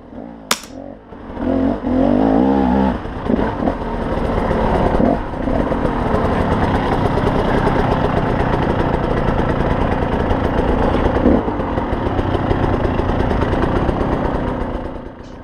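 Engine of a big off-road motorcycle on a trials ride, a loud steady rumble with sharp revs and popping bursts near the start, holding close and continuous throughout.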